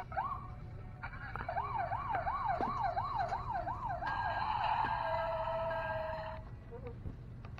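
A toy police siren wails in rapid electronic warbles, then switches to a steadier high tone, with clicks and faint background noise around it.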